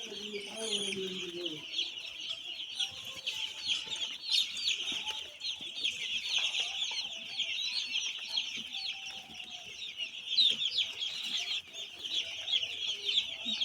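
Many small chicks in a newspaper-lined brooder peep continuously in a high, busy chorus, close by, with faint voices underneath.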